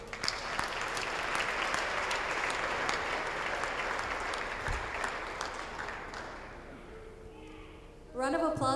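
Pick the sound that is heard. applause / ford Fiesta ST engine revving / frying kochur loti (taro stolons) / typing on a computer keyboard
applause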